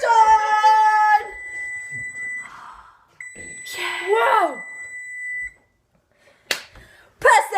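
Electronic oven timer beeping after brownies finish baking: a loud sustained beep at the start, then a long steady high tone, with people talking and exclaiming in between.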